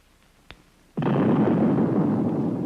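An underwater nuclear depth charge detonates after a brief click, erupting into a sudden heavy, sustained roar that stays loud to the end.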